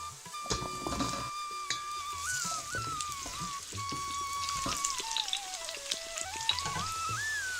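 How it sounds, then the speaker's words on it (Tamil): Chopped radish sautéing in a pan for Tamil radish sambar gives a dense crackling, spattering sizzle with a thin whistling tone wavering above it, steady, close and fairly soft, with no talking. "வெட்டி வச்ச முள்ளங்கியை சேர்த்துக்கிறேன் சேர்த்துட்டு நல்லா வதக்கலாம்"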